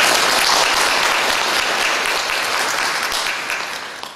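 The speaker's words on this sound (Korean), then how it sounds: "박수 부탁드립니다." Sustained applause from a crowd at a church gathering, loud and steady throughout, tapering slightly toward the end.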